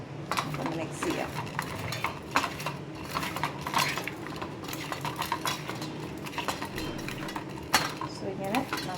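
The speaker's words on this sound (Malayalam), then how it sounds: "ആൻഡ് മിക്സ് ചെയ്യാം." A spoon mixes turmeric powder and cumin into ingredients in a bowl, clinking and scraping in a steady, busy rhythm with frequent sharp taps, close and fairly loud throughout.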